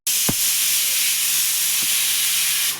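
Pressure cooker with saag steaming on full flame lets out a steady, loud, high hiss that runs unbroken for a few seconds after a short knock and then cuts off near the end.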